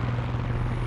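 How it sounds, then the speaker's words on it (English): A helicopter in the video game Far Cry 6 gives off a steady rotor drone with a low throbbing hum, close and fairly loud, and no voices over it. "Is that another helicopter?"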